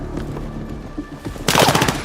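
Battlefield 6 gunfire: faint scattered shots and muffled noise, then a loud, close burst of rapid automatic fire in the final half-second.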